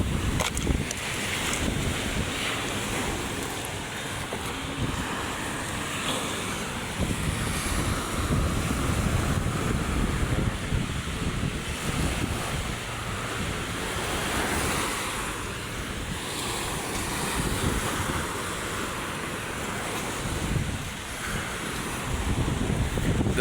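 Rough surf on Manila Bay crashes and rolls in a constant loud wash, with gusty wind rumbling across the microphone and the swell rising and falling over the length, no voices present.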